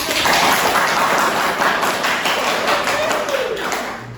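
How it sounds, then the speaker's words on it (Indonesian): Group applause in an Islamic education classroom lesson, dense continuous clapping from a room of students at fairly loud, steady level. "Kita beri tepuk tangan"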